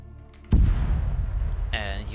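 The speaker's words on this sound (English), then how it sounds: "And you heard the explosion." A kamikaze drone explosion in the video game ArmA 3: a sudden loud boom bursts in after a quiet moment, then a rumbling decay with a sharp electronic tone near the end.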